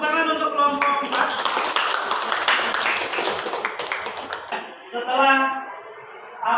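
Clapping from a class of teacher trainees for group 4 after a presentation in an Indonesian classroom, a dense burst of hand claps lasting several seconds, with voices and a few cheers mixed in before it fades.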